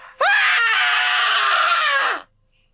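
A ship's captain lets out one long, loud, piercing scream lasting about two seconds, sharp at the start and cut off abruptly, followed by silence.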